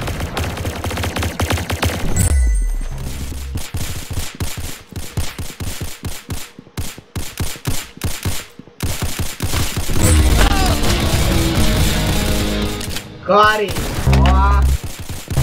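Rapid bursts of gunfire from a Roblox shooting game, loud and dense with repeated shots throughout, mixed with game sound effects while a player talks briefly over it.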